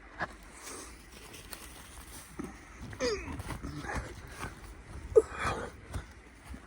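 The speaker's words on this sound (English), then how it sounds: "Dog." A dog gives a few scattered barks and yelps, moderately close, mixed with soft pattering and rustling, the loudest bark coming near the end.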